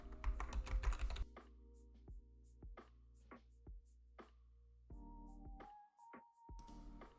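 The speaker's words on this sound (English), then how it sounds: "Not me typing in the chat" Typing on a computer keyboard during an Animal Crossing livestream, a dense burst of quick clicks at first, then sparse individual key taps over a steady low hum.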